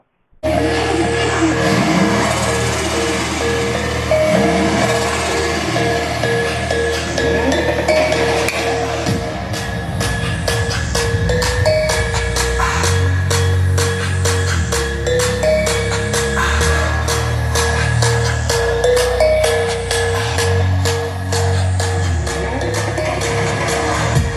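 Music plays steadily from a TV through a Boat Stone 1500 Bluetooth speaker, with a tonal melody over a rhythmic beat that thickens after the first few seconds and continues without talk.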